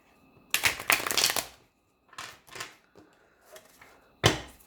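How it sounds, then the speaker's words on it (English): A deck of tarot cards is shuffled close up in several separate bursts of crisp riffling and flicking, with short quiet pauses between them and a final sharp snap of the deck at the end. "I'll just shuffle these again."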